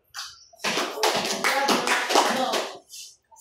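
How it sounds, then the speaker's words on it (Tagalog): A classroom group claps a cheer of about five claps under teacher and pupil voices, the claps close and sharp inside a run of speech. "Bigyan natin sila ng 5 palakpak."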